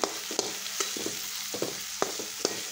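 Fried onion, tomato and garlic with turmeric and salt are stirred in a hot pan, a low sizzle broken by a regular series of scraping spatula strokes and light taps.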